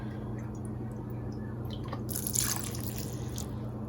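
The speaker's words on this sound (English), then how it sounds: "I'm going to add some apple cider vinegar" A short splash of apple cider vinegar being poured, a brief trickle and drip over a steady low electrical hum, close by.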